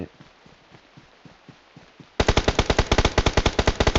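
Rapid automatic gunfire from a video game breaks in suddenly after quieter scattered shots, a loud, dense burst of regular reports continuing to the end.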